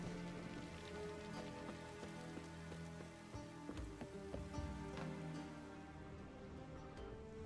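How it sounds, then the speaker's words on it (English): Steady rain in a video game patters on a surface with scattered louder drips, a dense continuous hiss with no voices. "Rain again."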